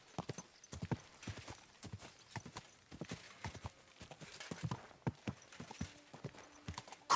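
Hooves clip-clop in a quick, uneven rhythm as a horse moves along at pace in Kingdom Come: Deliverance II, close and clear, with no talking.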